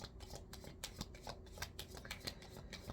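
Tarot cards being shuffled during a Pisces reading, a steady run of crisp riffling flicks and papery slaps close to the microphone with no talking.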